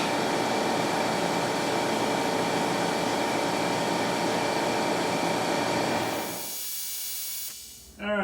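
An air compressor in a CNC shop runs with a loud, steady broadband hiss and hum, then winds down and cuts off near the end, leaving a brief quiet stretch before a short final noise.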